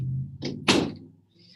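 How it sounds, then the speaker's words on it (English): An indoor door is pushed shut with a short rustle, then a solid, close thud as it closes, followed by quiet. "Hold on, let me close this door."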